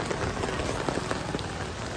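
Steady rain falls on outdoor surfaces during the Diwali festival season, a dense, close patter that continues without a break and with no voices.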